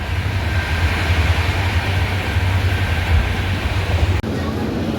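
Steady, loud rumble of a fairly empty moving train nearing Amritsar station, a continuous low drone with rattling, interrupted only by a brief dip near the end.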